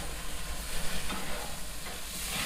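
Frozen burgers sizzle steadily on a hot griddle as they are flipped, a dense continuous frying hiss with a few soft scrapes and no talking.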